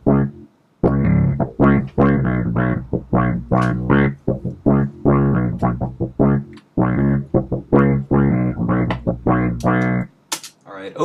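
A chopped Indian-style sample processed with compression, EQ and a filter effect, playing as loud, choppy melodic phrases with sharp cuts and short gaps between bursts.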